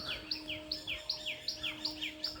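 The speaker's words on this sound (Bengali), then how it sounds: "কি সুন্দর আওয়াজ পাখির আওয়াজ" Birds call in a bamboo grove, a string of short bright chirps repeating at a steady quick rhythm, fairly close, over a faint steady hum.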